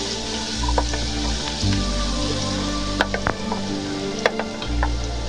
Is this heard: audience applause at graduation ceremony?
no